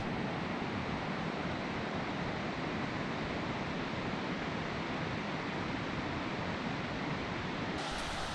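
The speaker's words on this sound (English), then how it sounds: "This is the stream that leads up to Devil Peaks Fall." Mountain stream leading toward a waterfall, a loud, continuous rushing broadband wash of flowing water close by, steady and unbroken with no speech.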